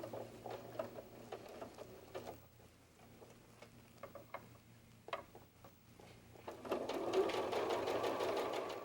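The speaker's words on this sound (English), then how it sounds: "Now you're going to sew this edge to put the 2 pieces together." A sewing machine stitches together the cheek and forehead fabric pieces of a fox softie, running in short rhythmic bursts with pauses and then a longer, louder continuous run near the end, with no talking.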